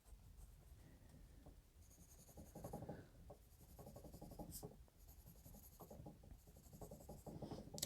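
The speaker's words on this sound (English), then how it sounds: "It feels a lot like writing with many other Japanese mechanical pencils." Soft, steady scratching of a Yasutomo 0.9mm Japanese mechanical pencil across paper, very quiet and close, with continuous strokes and brief pauses.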